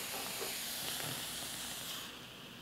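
A flameless heater from a Lithuanian combat ration hisses out steam in a continuous, fairly quiet broadband rush that stays even, then eases slightly at the end.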